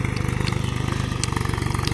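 Mahindra 275 tractor working a muddy rice field, its engine chugging in a fast, even, loud thump close by, with no one talking.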